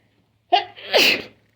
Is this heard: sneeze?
yes